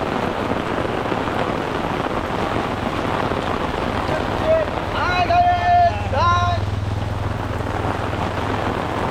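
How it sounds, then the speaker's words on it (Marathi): Dense, steady hiss of heavy cloudburst rain pouring down beside a river, with a voice speaking briefly partway through over the downpour. "बट स्टील तुम्हाला पावसाचा सुद्धा ऐकायला येत असेल"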